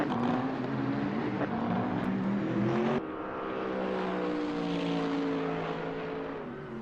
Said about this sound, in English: as you can hear the glorious sounds of the cars